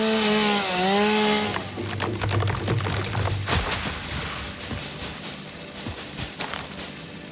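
A chainsaw in the factory-building game Satisfactory buzzes loudly, first a revving whine that then turns into rough, crackling cutting and rasping as it chews through wood, close and continuous with no voices.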